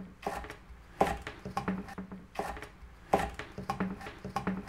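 Knife slicing through a chili on a board, a series of crisp cuts in irregular pairs and clusters with sharper strokes near the start and middle, close and moderately loud with no talk.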